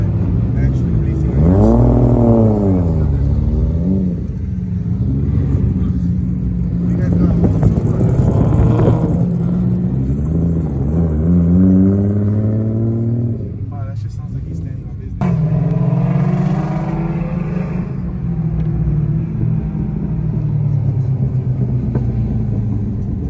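Toyota Supra Mk4 and Mk5 racing, one car taking off with a loud, rising engine roar through repeated revs and gear changes, a heavy rumble filling the whole stretch while a voice talks over it.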